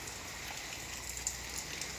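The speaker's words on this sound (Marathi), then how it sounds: "आज पाऊस भरपूरच आहे" A heavy afternoon downpour gives a steady, dense hiss of falling rain with no break across the short stretch.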